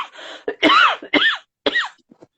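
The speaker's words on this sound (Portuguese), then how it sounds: "que tosse é essa?" A person coughs several times in quick succession, loud and close, with harsh bursts separated by short pauses and a few faint trailing sounds at the end.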